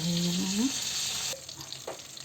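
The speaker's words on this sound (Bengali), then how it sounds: "এই মাছ ভাজাগুলো হয়ে গিয়েছে" Continuous hissing sizzle of fish frying in a pan, with a brief faint hum, then the sizzle drops away to quieter crackles.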